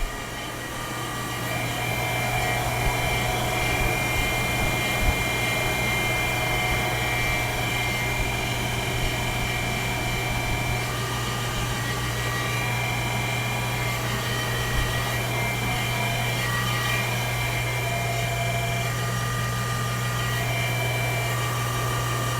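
Pair of MAN V12 diesel engines in the engine room of a Sirena 88 superyacht, roaring loud and steady with a strong low drone and whining tones, continuous for over twenty seconds with no talking.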